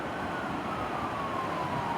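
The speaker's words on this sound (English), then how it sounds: "I can hear trains and police sirens, the hum of a lot of traffic." Police sirens wail faintly in the distance over a steady hum of heavy traffic near a town, a soft continuous wash of road noise with a thin siren tone gliding downward.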